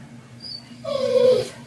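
A puppy whimpers indoors, a thin high whine rising and swelling briefly over a low steady background hum, close and fairly clear, with no talking.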